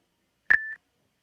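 A sine-wave synth tone in LUNA, shaped with added attack and reduced sustain, sounds once as a single short, clean beep that starts sharply and fades quickly in silence.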